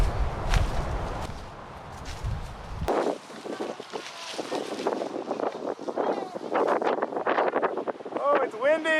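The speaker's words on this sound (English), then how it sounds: "Oh, it's windy." Wind gusting across a grassy island trail in the Abacos, Bahamas, a heavy low buffeting rumble for the first few seconds, then lighter rustling, scattered movement sounds and faint high chirps.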